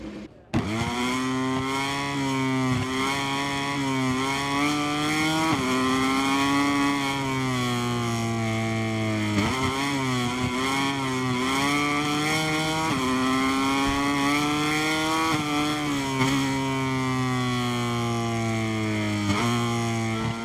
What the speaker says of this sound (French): la moto est prête et le pilote va prendre la piste